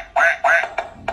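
A children's toy plays a duck quacking sound: two loud, close quacks followed by shorter clipped bursts, with nothing else audible.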